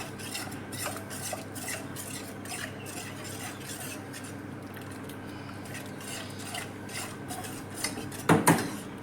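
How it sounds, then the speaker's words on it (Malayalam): Ragi soup stirred continuously in a pot, a steady scraping and swishing of a spoon against the vessel with a louder clatter near the end, no speech. "ഇത് ഒഴിച്ചു കൊടുത്തതിന് ശേഷം കണ്ടിന്യൂസ് ആയിട്ട് ഇളക്കി കുറുക്കിയെടുക്കണം"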